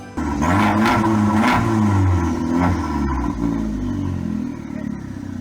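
A loud Abarth exhaust on an MGB sports car revs up and down repeatedly close by, its throaty note rising and falling before settling into a rumbling idle.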